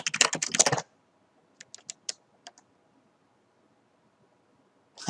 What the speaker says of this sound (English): So to change your password, type passwd